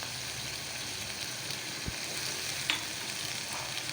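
Garlic paste hits hot oil in a pan for a bakery-style patty filling, giving a soft, continuous frying sizzle with a low thump and a brief clink, fairly quiet and free of speech.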